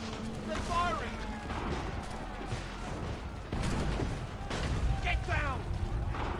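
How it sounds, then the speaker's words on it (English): Gunfire from the video game Assassin's Creed 3: bursts of shots and booming blasts echo through a battle, with a voice shouting over the noise throughout. "Take cover! They're firing!"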